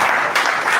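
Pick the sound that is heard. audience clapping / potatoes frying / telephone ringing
audience clapping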